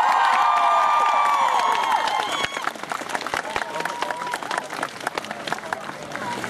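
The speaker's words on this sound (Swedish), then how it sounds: "En stor applåd och varsågod!" At a Närcon Summer 2014 cosplay prize ceremony, a crowd claps and cheers for a winner, with loud shouting and whooping at first that settles into scattered clapping and crowd noise, voices mixed in.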